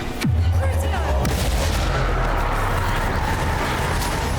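A Crucio curse spell cast in Hogwarts Legacy, a deep rumbling magical surge that swells loudly at once and holds as a dense, sustained roar with a low droning hum underneath, alone without talk.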